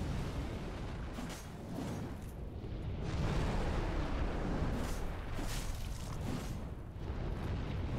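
A fire attack in the video game Dark Souls 3 roars as a sustained, rumbling whoosh of flame that swells and holds for several seconds, dense and steady, with no voices.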